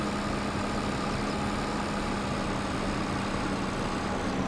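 A new, powerful tractor engine in Farming Simulator 22 runs steadily, a constant low idling drone with a firm hum, even and unbroken with no voices.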